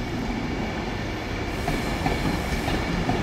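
An 11-coach London Euston to Glasgow passenger train at Carlisle station, a steady moderate rumble of rolling wheels with faint rail clatter throughout.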